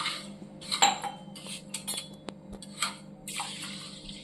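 About four cups of water poured over sugar in a pot to make syrup for gulab jamun, a splashing pour mixed with clinks and knocks of the pot and utensils, close and moderately loud.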